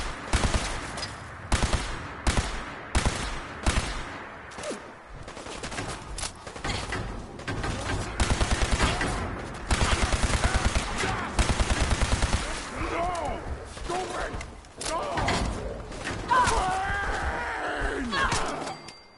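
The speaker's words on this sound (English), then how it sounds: "We do have a lot of energy cells. And an automatic laser pistol." An automatic laser pistol fires in Fallout 4: rapid bursts of sharp, loud energy shots repeat in quick volleys, mixed with other game combat sounds and a voice.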